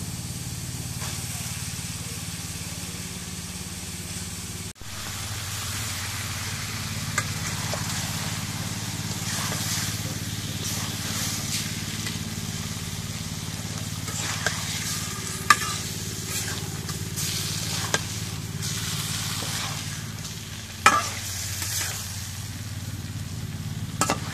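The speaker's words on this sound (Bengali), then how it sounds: "এখন মশলা মশলা নাড়িয়ে এখন মাছ দিয়ে দিই।" Fish sizzles and fries in a spiced masala while being stirred, a steady close hiss broken by occasional sharp clicks and knocks of the utensil against the pan.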